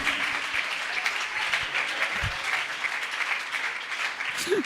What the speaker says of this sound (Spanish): Usted está aplaudiendo porque está entendiendo.